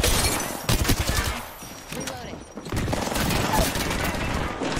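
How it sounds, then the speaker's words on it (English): Grenade blasts and heavy gunfire in the Apex Legends battle royale shooter, a dense burst of loud cracks and booms with rumbling decay, mixed with player voices. "That's my nade."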